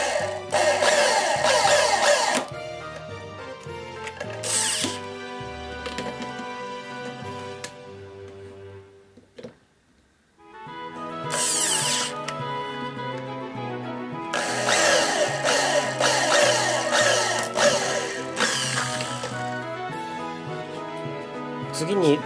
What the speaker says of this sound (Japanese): 印をつけた部分にドリルで穴を開けていきます